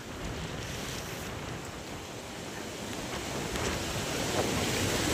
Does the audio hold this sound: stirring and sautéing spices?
no